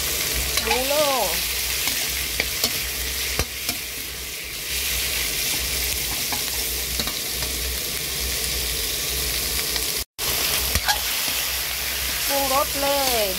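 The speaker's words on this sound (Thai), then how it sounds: "พริกกระเทียม ผัดให้หอม" Chili and garlic stir-fry in a hot pan with a steady, loud sizzle and scraping stirs throughout, close up, while a voice speaks briefly at times.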